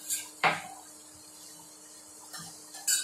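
A spoon stirring honey and lemon in a tea cup, a few sharp clinks of metal against the cup spaced apart, with quiet handling noise between.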